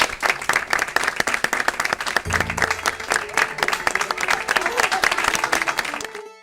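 Audience applause at an education talk on art in schools, a dense run of many hands clapping, loud and close, continuing steadily before cutting off at the end.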